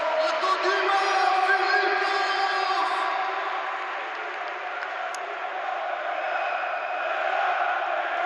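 A volleyball arena crowd roars and cheers during a PAOK Thessaloniki versus Istanbul BBSK match, a loud, steady wash of voices that swells early and then holds at a slightly lower level throughout.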